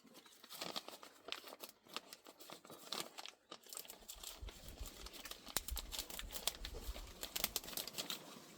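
Plastic sheeting cut from a feed bag being trimmed to size, giving a run of close crinkling, crunching and tearing snips that continue steadily with no talking.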